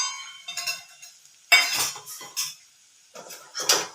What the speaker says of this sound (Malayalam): ഇതെല്ലാം നന്നായിട്ടൊന്ന് ഇളക്കുക.